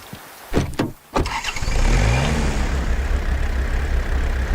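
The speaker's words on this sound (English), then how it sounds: "you have idle sound of the exhaust, sound of the engine is more hearable as you rotate the camera" A vehicle engine in the Way of the Hunter video game comes alive after a few short mechanical clunks, then settles into a steady low idle with exhaust rumble, close and alone.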